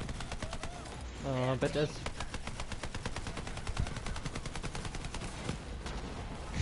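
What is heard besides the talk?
gunfire in Borderlands 3 video game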